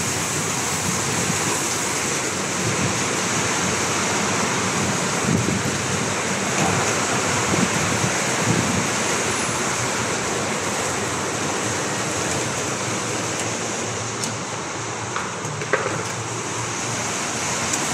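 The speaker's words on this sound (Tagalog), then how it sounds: "napakalakas ng ulan." Dense, steady roar of heavy rain pouring down at night without letup, a thick broadband wash with no voices throughout.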